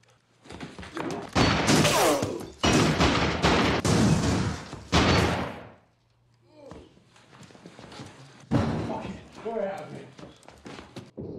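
Loud bursts of gunfire from a scene in the 2000 film Snatch crack out in rapid clusters, followed by quieter stretches where viewers talk and react.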